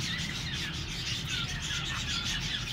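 Parrots chirp in rapid, repeated, moderately loud tweets over a steady background hiss, with no talk.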